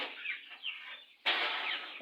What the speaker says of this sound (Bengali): মুরগি ওইখানে জমে রয়েছে।